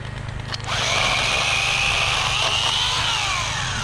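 A chainsaw revs up and cuts steadily through wood in a forest, a loud close engine whine holding for several seconds with no talk.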